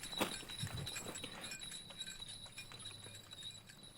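Horse-drawn carriage with jingling bells, a steady clatter of hooves and faint chiming running throughout, moderately close.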